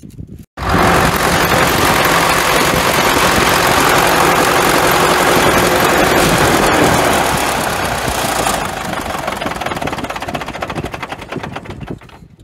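A Caterpillar D4 bulldozer power plant engine fires up after a brief crank, then runs loud and steady with a dense clattering idle that eases slightly toward the end.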